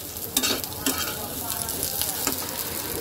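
Potato, aubergine, onion and green chilli frying in leftover fish oil in a pan, a steady close sizzle with brief louder spatters and stirring scrapes, no voices.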